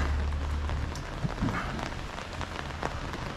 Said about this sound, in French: Oh là, il pleut.